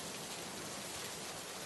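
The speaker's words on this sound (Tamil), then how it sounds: "மழை." Steady rain, played as a sound to guess in a game, hisses evenly throughout, a dense, constant wash of falling drops with no pauses or voices.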